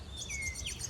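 Male Dominican widow, or pin-tailed whydah, chirping in a garden: a string of bright, high tweets and short whistled slides running continuously and fairly close, over a low background rumble.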